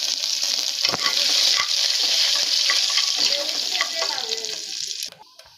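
Curry leaves crackle and sizzle loudly in hot oil, a bright steady hiss with occasional spatters and stirring clinks before cutting off abruptly.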